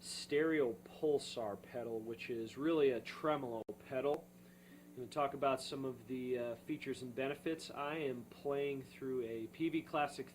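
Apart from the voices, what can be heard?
None of the usual background noises is heard.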